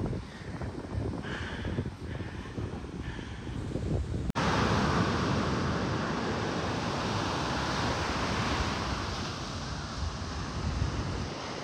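Steady wash of surf breaking on a beach at sunrise in Chennai, a broad continuous roar with wind buffeting the microphone, growing louder and fuller midway after a sharp click.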